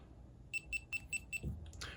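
A Mobius Maxi 4K action camera powers off with five short, evenly spaced beeps, then a brief handling rustle. The sounds are quiet and close.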